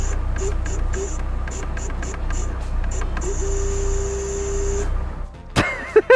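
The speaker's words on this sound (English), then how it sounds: "The power steering pump seems to make a weird buzzing sound when you turn the steering wheel on full lock" Lada Niva power steering pump at full steering lock, a steady whining buzz with belt-rub character droning over low engine hum, pulsing in short bursts then holding a long continuous tone before stopping.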